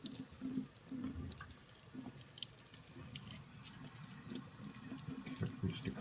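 Tap water running steadily into a sink while a hedgehog is bathed, a continuous close splashing and trickling with small drips and sloshes from handling, faint and without talk.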